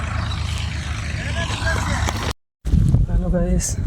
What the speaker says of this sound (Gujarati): જોઈ શકો છો સામે આપણું ટ્રેક્ટર ચાલે છે।